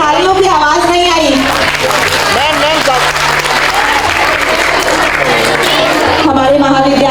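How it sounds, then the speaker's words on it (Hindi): Loud, sustained audience applause fills a college courtyard during a welcome at a stage event, dense and continuous with crowd chatter mixed in throughout. "जोरदार तालियों के साथ स्वागत।"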